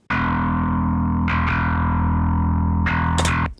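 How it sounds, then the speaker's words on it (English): Distorted bass guitar main track with a gritty, heavily effected tone, sustained notes ringing loud and continuous, with fresh attacks re-striking around the middle and near the end before cutting off. "like the main dangle track, sounds like this."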